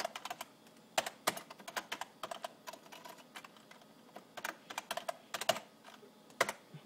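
Fast, uneven keystrokes on an old HP-made computer keyboard, clicky and a little rattly, with bursts of rapid taps and brief pauses, heard close and alone at a modest level.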